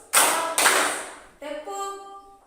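A group of students in a classroom claps together in a few sharp, loud bursts, followed by a short ringing, tonal sound as the claps fade.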